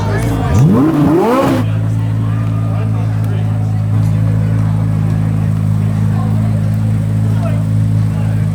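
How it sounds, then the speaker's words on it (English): A 2023 Chevrolet Corvette C8 Z06 gives a loud rising and falling rev, then settles into a steady, deep, rumbling idle that continues throughout at close range. "Rev it up! Rev it up!"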